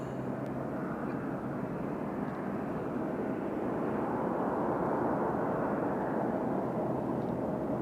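A JetBlue airliner passes at Nashville International Airport with a steady, broad jet roar that holds for several seconds and swells slightly in the middle, with no talking.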